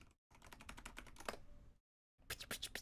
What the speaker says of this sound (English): You hear me like slapping on my keyboard?